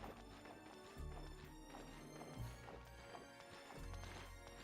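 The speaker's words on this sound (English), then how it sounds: "It's a donkey." Donkey hooves clip-clop along a mountain road in the video game Suikoden III, a steady rhythmic trot set against game music with a few heavier thuds, moderately loud and without talk.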